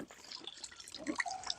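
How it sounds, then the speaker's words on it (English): Water lightly splashed and swirled in a gold pan at a gold mining wash plant, giving faint, scattered drips and small splashes that come close together without talk. "so just splash it a little bit, get those rocks loose and all that dirt"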